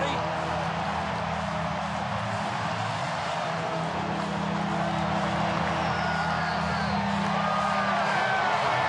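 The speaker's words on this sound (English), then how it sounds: "has woken up the crowd here at Citizens Bank Park" Baseball crowd at Citizens Bank Park roaring after a grand slam, a broad sustained wall of cheering and shouts that swells slightly toward the end, with a commentator's voice over it.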